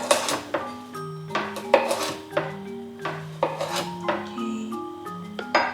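A knife chops vegetables rangiri style for miso soup, with repeated irregular knocks and scrapes on a cutting board, fairly close, alongside light clinks of kitchenware and no talk over the chopping.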